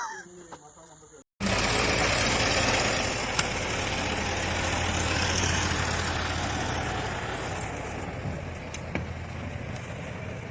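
A farm tractor hauling a trailer with a harrow underneath runs steadily after a sudden cut-in. Its engine holds a constant, fairly loud idle-like drone with a few brief clicks and knocks.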